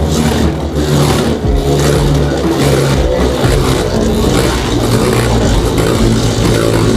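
Beyblade Burst spinning tops clash in a plastic stadium, a loud continuous whirring scrape with rattling knocks as the tops collide and grind against each other.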